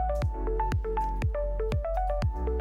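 A spoon works through a wet Gobi Manchurian batter of cornflour, salt, chilli powder and water, making close, rhythmic squelching strokes about twice a second with no talking.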